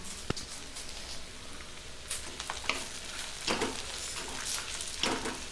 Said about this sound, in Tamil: இப்போ வெங்காயம் நல்லா கலர் மாதிரி நல்லா வதங்கி வந்திருக்கு.